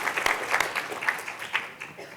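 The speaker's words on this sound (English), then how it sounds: "Applause for everybody." Brief applause from a symposium audience of medical device innovators after pitch presentations, scattered claps at moderate level fading over a couple of seconds.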